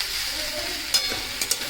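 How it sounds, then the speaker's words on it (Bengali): Chopped mixed vegetables fry in a pan, giving a steady close hiss with a few brief stirring scrapes and clicks. "এই যে আমার সব কিছু আনাজ দিয়ে আমি একটা ভাজা করে নিচ্ছি।"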